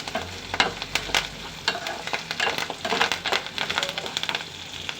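Raw banana pieces and curry leaves fry in a pan with a lively sizzle, broken by repeated scraping clicks of stirring at an irregular rhythm, close and clear.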